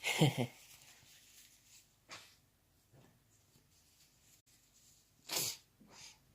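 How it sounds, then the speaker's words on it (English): A couple of sharp, breathy sneeze-like bursts, close and loud, with soft sniffs and quiet pauses between them. "I'm sorry if you hear any unpleasant coughs and sneezes and sniffles"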